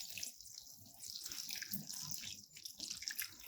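Water from a hose or can splashes and patters softly onto garden plants, a faint fluctuating trickle heard close by with no voices.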